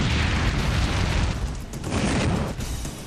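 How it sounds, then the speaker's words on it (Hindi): Loud, continuous rumbling bursts with crackling noise, a dense roar of explosive blasts on a riverbank sustained throughout, no voices. "उस नदी में विस्फोट अपने आप होता रहता है"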